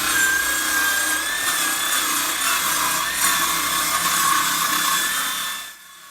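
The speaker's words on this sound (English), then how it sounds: "Right now we're going to cut off our little end here with our little battery-powered saw." A small battery-powered saw cutting through foam board, a loud, steady whining buzz lasting several seconds before stopping abruptly, with no talk.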